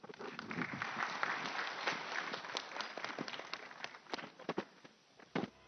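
Audience applause for panelists at a conference panel on AI, a dense wash of clapping that thins toward the end into scattered individual claps.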